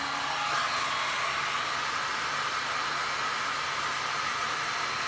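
A hair dryer blows over an acrylic resin pour made with Golden Fluid Acrylics on canvas. It gives a steady, even, continuous airy whoosh that holds the same level throughout, with no voices over it.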